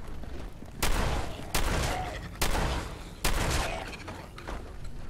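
Assault rifle gunfire from the Fallout 4 video game, played on survival difficulty: four loud, sharp bursts at steady intervals, each ringing out and decaying before the next.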